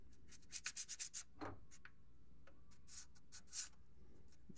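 Wet sanding of gloss paint on a C-3PO replica, heard as a quick series of close, rhythmic rasping strokes followed by a few slower, scattered rubs, quiet and alone with no talking.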